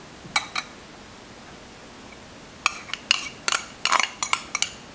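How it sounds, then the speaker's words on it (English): A utensil stirring a fresh salad of sweet corn and feta in a bowl: a pair of light clinks, a short pause, then a quicker run of scraping taps and clinks close by. "You can stir at this point."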